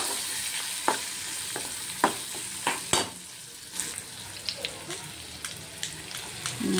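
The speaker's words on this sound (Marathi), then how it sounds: "थोडीशी कोथिंबीर घालायची आहे, तेलामध्ये परतवून घ्यायची आहे।" Coriander sautés in hot oil, a crackling sizzle with repeated taps and scrapes of a spatula stirring the pan, up close, while the spitting gradually settles; no one speaks.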